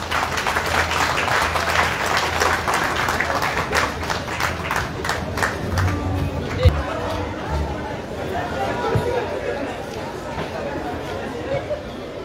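An audience at an award ceremony honouring employees claps in a dense burst that gradually thins out and fades, with crowd chatter underneath.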